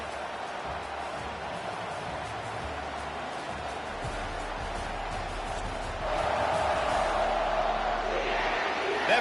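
Home crowd in a College Football 25 stadium roars during a third-down defensive stand, a dense sustained din that swells louder in the last few seconds.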